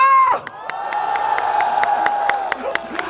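A festival crowd at a university outdoor concert cheers and shouts loudly and steadily, with sharp claps and whoops scattered throughout after a short amplified call.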